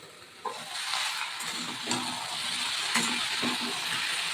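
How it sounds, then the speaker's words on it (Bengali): Vegetables for a Bengali dudh sukto stirred in a pan, a steady broadband sizzle with scraping utensil strokes recurring every second or so, no talk. "এবার আমি সবজিটা একটু নেড়ে নেব।"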